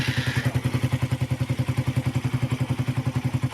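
A cold motorcycle engine idles close by with a fast, even, pulsing rhythm and a light ticking clatter from the timing, with no voices.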